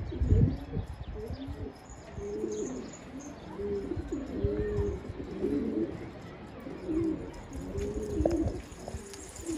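Pigeons flying in a loft area give soft, repeated cooing calls throughout, moderately close, with low background rumble and faint chirps; no clear wingbeats stand out.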